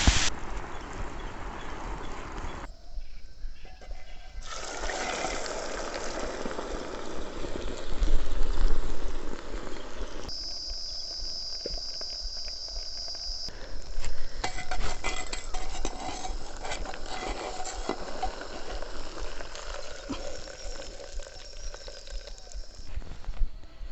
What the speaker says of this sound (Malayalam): അപ്പോൾ നമ്മുടെ ലേസ് ചിക്കനെ പൊരിക്കാം നമുക്ക്.